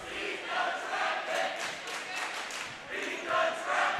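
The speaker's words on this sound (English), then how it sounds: "the crowd giving it to the Pentucket team" A crowd at a 2017 boys high school playoff basketball game jeers the Pentucket team, a loud, rolling roar of shouts and calls that swells and dips in waves across the gym.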